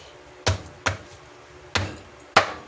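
A raw tuna head is split with a heavy blade, giving four sharp, loud chops at uneven intervals, each a hard thud on a cutting board, with no talking.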